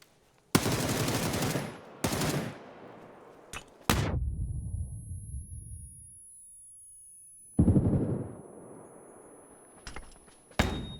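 Bursts of automatic gunfire in the PUBG battle royale video game on Erangel: several loud rapid volleys separated by pauses, each trailing off in a low rumbling echo, with a final short burst at the end.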